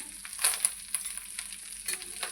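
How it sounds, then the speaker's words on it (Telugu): Quiet, steady crackling sizzle of curry leaves frying in hot oil, with scattered pops and a light scrape or two, close and alone. "కరివేపాకు వేగుతుంది కదండి"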